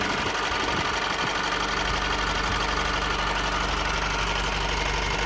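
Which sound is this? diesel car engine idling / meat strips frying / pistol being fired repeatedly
diesel car engine idling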